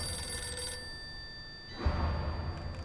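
A telephone rings in the detective video game Blues and Bullets. The electronic ring is a steady, sustained tone that cuts off partway through, followed by a low thump and muffled background ambience.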